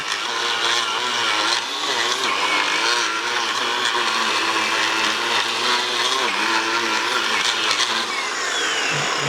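An EGO multi-head string trimmer edges grass along a driveway, its loud, steady high-pitched motor whine and buzzing line running close and continuous with slight wavering pitch.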